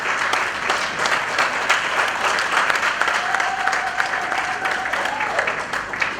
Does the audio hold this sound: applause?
yes